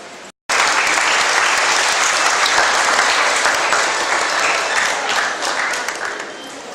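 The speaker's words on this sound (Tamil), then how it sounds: "அந்த சமயத்திலே நீங்கள் உற்சாகமாக உங்களது கரகோஷத்தை இருக்குமாறு அன்புடன் கேட்கின்றேன்." After a brief silent gap, an audience at a school class ceremony in Poonamallee breaks into loud, sustained applause. The dense clapping holds steady and fades slightly near the end.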